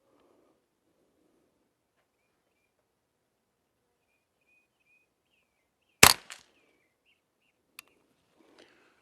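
A Volquartsen Snake rifle fires one sharp, loud gunshot with a short echo, followed by a faint second report and a couple of small clicks, set against quiet surroundings.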